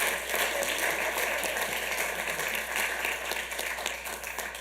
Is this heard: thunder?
no